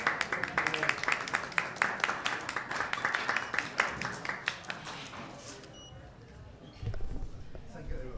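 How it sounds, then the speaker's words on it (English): An audience at an investment forum in Manhattan gives a round of applause, a thinner scattering of individual claps that gradually dies away into quiet room noise. "Please give him a big round of applause."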